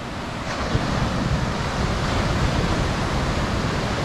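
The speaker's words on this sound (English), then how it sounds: "we're at Marianne Beach right now, Marianne River Bay" Ocean surf at Marianne Beach in Marianne River Bay, Trinidad, fills the scene with a steady broadband wash of breaking waves, loud and continuous, with some wind rumble and no voices.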